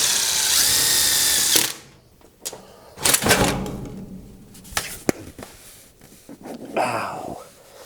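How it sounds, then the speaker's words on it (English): A power drill bores into thick single-wall steel chimney pipe for a wood stove, a loud high whine for over a second, then quieter bursts of grinding, clicks and metallic knocks. "It's going to take a while to drill it though."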